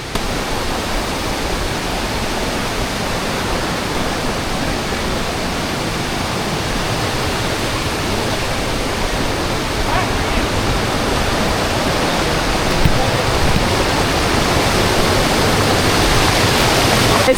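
The Nanemachi / Saatsada waterfalls roar continuously, a dense, loud, even rush of falling water heard close up, with no voices over it.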